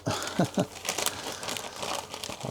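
A small flat Royal Mail air-mail package made of plastic is crinkled and torn open close by: dense crackling rustles with several sharp louder crunches, quiet and steady, with no talking.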